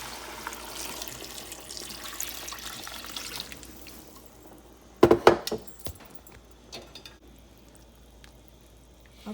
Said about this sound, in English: Adding about 8 cups of water.